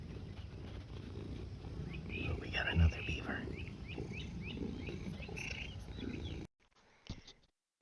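A cat's low, steady purr rumbles close by for several seconds while someone speaks quietly over it, then it cuts off abruptly.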